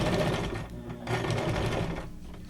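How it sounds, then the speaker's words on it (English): A sewing machine stitches lines of gold thread onto a paper junk journal bookmark, a close continuous mechanical whir with a brief pause midway. "I'm actually doing like 2 lines of stitching because I like that really messy look with the stitching"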